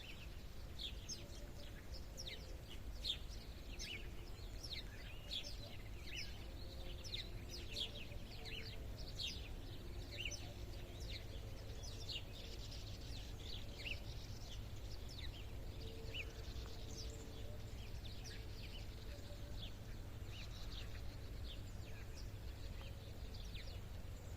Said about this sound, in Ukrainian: Ви чуєте, як співають птахи?